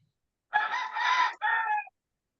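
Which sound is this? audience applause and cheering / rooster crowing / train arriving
rooster crowing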